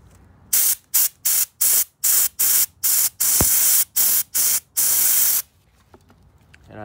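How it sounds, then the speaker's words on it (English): Bursts of compressed air spray through the carburetor passages of a McLane 3.5hp edger in quick succession, about ten short blasts with a longer one near the end, loud and close, then quiet. "Spray some air up through the passages."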